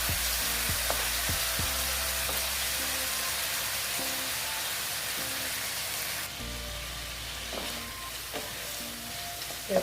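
Thin-sliced potatoes and egg sautéed in a pan, a loud steady sizzle with repeated spatula scrapes and taps at an even pace, the hiss dropping slightly partway through, no voices.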